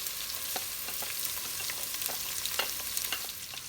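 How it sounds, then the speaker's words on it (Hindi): Potatoes with black pepper and cumin fry in a pan, giving a soft, steady sizzle with light scraping and stirring clicks scattered throughout. "आलू में काली मिर्च और जीरा डाल के इसको अच्छा सा फ्राई करें।"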